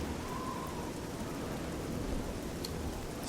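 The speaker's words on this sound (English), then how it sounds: "it's raining cats and dogs out here" Heavy rain in the video game Oblivion, a constant dense hiss of downpour filling the whole stretch, steady and fairly loud, with no talking.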